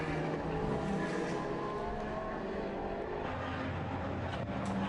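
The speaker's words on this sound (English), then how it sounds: "Into Copse Corner comes our race leader, flashing his lights to try and get the back markers out of the way." GT race car at Silverstone during a Blancpain Endurance Series round, engine roaring loud and steady through Copse Corner with a sustained, close mechanical drone and no talk over it.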